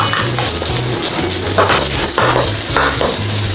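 Chinese sausage stir-frying for yakisoba in a pan, with a steady close sizzle and the repeated scrape and clatter of a spatula stirring through, no voices.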